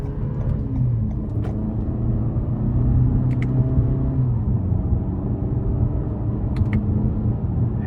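A 2024 Toyota Camry XSE with the 2.5-liter four-cylinder pulls hard in first gear, a steady loud engine drone heard from inside the cabin, with a few faint clicks over the rumble.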